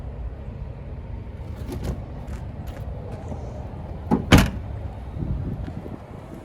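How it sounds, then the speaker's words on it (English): The lockable fuel door on a 2024 Nissan Sentra SV Premium is handled, giving a few soft clicks and rustles and then one sharp, close snap as the door shuts. "And we do get that lockable fuel door, which is nice."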